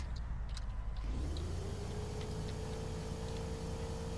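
A car's whistle in the racing game Project Acceleracer: a thin tone rises and then holds steady over a continuous engine drone, fairly faint in the mix with no talking.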